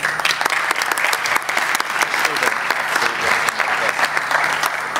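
Audience applause at a corporate and entrepreneurship forum, sustained clapping from a sizeable crowd, loud and even for several seconds.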